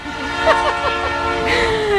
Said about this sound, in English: now of course the train is passing by